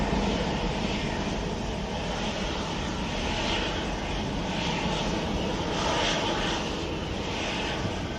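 Jet engines of a Hainan Airlines A330 airliner roar loud and steady at close range, a dense broadband rumble with a faint high whine that swells slightly around the middle, with no voices.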